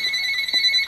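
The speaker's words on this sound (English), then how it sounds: "my phone ringing" A phone ringing: a steady electronic tone with a high, sustained pitch lasting under a second, clear and fairly loud, with no voices.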